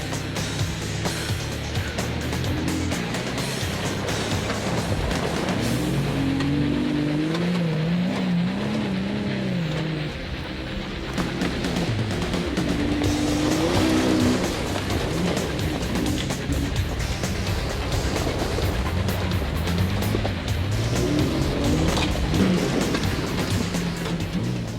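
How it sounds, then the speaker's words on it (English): A Jeep Wrangler LJ driven fast on off-road trails, with a loud, close engine that rises and falls in pitch as it revs and shifts, over steady rumble and rattling from the rough ground. "it's time to pick up the pace a little bit and see how this Jeep does and how it handles at a higher rate of speed"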